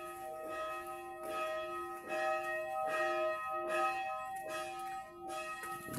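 Church bell ringing in steady repeated strokes, each chime sustained and overlapping the next, fairly distant and alone with no talk.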